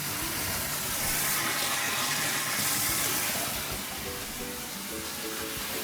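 Whole tomatoes being lowered into a pot of boiling water for canning. A steady, loud hiss of bubbling water and steam fills the clip, rolling continuously with faint splashy shifts and no voices.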